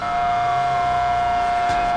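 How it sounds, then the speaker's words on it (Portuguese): Police car siren in GTA V wailing loud and steady, a sustained unbroken tone held throughout with no talk over it. "Tá vendo a viatura aí sinalizada com sirene e fica desfilando no meio da rua"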